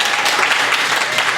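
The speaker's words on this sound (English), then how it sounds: "Give a round of applause." An audience at a county candidates forum claps in steady, full applause, loud and continuous for the whole moment without speech over it.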